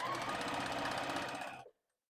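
A sewing machine stitching pieces of quilting fabric together, a loud, close, steady mechanical whir that runs evenly for over a second and a half before stopping abruptly into silence.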